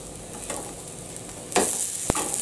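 Beet burgers sizzling in a frying pan partway through cooking, a steady soft crackle with a couple of louder bursts and scrapes, as if a spatula is moving them, and no voices.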